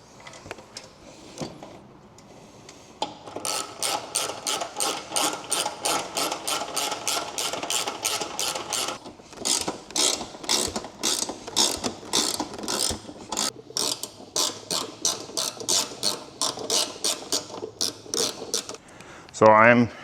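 Hand ratchet tightening bolts on a custom Koso gauge relocation kit for a motorcycle, a long string of rapid, close clicking pawl strokes in bursts with short pauses, mostly alone.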